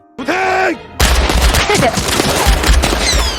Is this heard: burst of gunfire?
yes